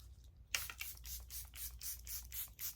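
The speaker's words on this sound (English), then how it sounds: "I'm just gonna go in with the Charlotte Tilbury Airbrush Flawless Setting Spray" Charlotte Tilbury Airbrush Flawless Setting Spray mists out in a rapid series of short hissing pumps, about eight close bursts after a brief quiet start.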